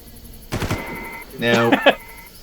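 Gunfire in the Far Cry video game: two short bursts of rapid shots, the second longer and louder, with some voice-like sound mixed in around them.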